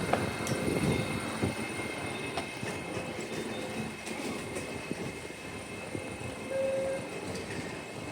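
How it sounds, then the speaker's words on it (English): An NGR passenger train rumbles through Gympie North station in open bushland, a faint steady rolling hum with light wheel clatter and a brief squeal. "There's our train, NGR, all the way up here"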